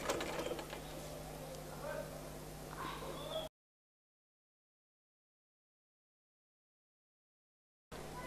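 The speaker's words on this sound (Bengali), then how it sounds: "এখন এই ভাঁজে আমি পুরো সেলাইটা করব।" Sewing machine stitching along a fold of a baby's shirt (fotua), a close steady mechanical whir with faint ticking and some talk, then a long gap of silence before the running machine returns briefly.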